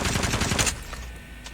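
Rapid automatic hip fire from a BK57 in a ranked shooter game, a dense burst of loud, close gunshots for about three quarters of a second, then a few scattered shots trailing off.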